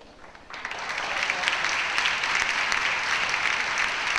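An audience at a conference round table breaks into applause, the clapping building quickly from a few hands into steady, dense applause that carries on to the end.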